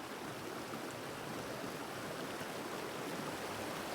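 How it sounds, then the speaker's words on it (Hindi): A fast-flowing river in Palin, Arunachal, rushing over rocks: a steady, dense broadband roar of water, close and unbroken from start to finish. "नदी का बहाव भी बहुत तेज है"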